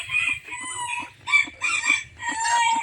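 Hens cluck and chatter up close on a small backyard mini farm, with overlapping clucks and brief calls in an irregular rhythm and faint cheeping of newly hatched chicks beneath.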